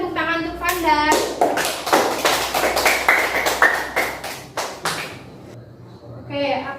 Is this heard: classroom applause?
yes